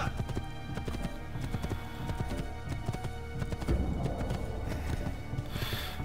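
Horse hooves clip-clop in the video game Assassin's Creed II, a steady rhythmic run of hoofbeats over a constant ambient bed, with a faint whinny near the end.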